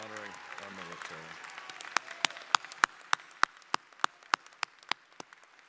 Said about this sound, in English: I'd like to ask for a round of applause for Justin Bottoms honoring our military.